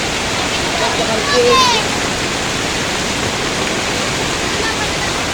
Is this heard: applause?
no